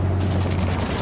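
Steady, loud rattling fire pounds against the treads of a tank in Halo 5, a constant heavy mechanical roar with rapid impacts layered over a deep engine drone.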